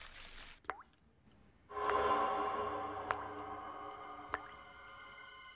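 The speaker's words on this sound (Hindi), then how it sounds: "शायद कुछ टपकने की आवाज आ रही है।" A few sparse drips plop in a quiet indoor room, isolated taps spaced seconds apart over a faint steady hum.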